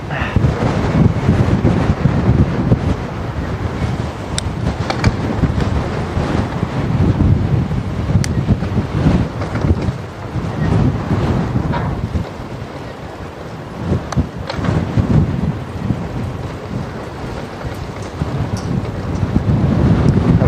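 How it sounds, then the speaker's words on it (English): Strong outdoor wind buffets the microphone continuously, a loud, steady rumbling roar with gusty swells throughout, and no talk. "Well, there's the wind."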